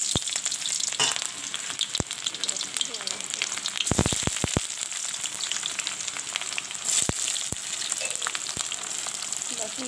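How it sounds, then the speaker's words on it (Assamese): Onions fry in hot oil in a kadai with a continuous bright sizzle, punctuated by sharp crackles and scrapes from stirring, close and loud with no talk. "এতিয়া মোৰ কেৰাহীখনৰ তেল গৰম হৈ গ'ল তাৰপিছত মই ইয়াতে দিম এতিয়া পিঁয়াজ"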